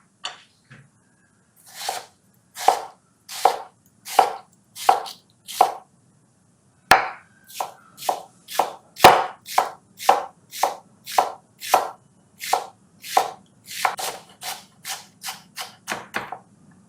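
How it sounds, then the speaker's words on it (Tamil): A knife chops onions finely on a board in a steady rhythm of crisp, close strikes, with a short pause partway before the chopping resumes, no talking over it. "வெங்காயத்தையும் நம்ம பொடி பொடியாக வெட்டிட்டு அதுக்கப்புறமா ஆட் பண்ணிக்கலாம்"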